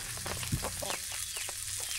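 Chicken clucking at a rainy campsite, soft repeated clucks close by over a constant wash of heavy rain.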